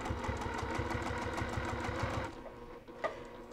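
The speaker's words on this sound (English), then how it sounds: "I'm going to stitch directly to the mark." A sewing machine stitches a seam on a cross-stitch zippered pillow top, a fast, steady, even run of needle strokes that stops partway through, leaving a quieter tail with a faint click.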